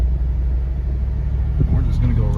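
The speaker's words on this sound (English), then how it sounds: "I'm just going to let off the gas" An off-road vehicle's engine idles down into a low, steady rumble as the driver lets off the gas, with someone talking over it.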